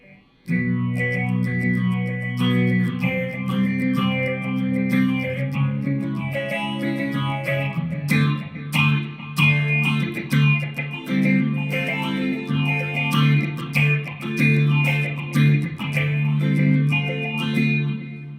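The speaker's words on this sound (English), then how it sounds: "The flanger is a sound that makes the instrument sound like it's going in and out." Electric guitar strumming chords through a flanger, the tone sweeping in and out with a whooshing, swirling shimmer, loud and continuous.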